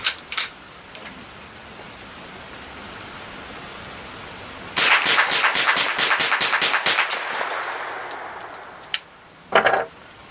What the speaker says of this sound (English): We'll shoot and see if they all run smoothly through the Savage. Going to start off with the Federal Auto Match.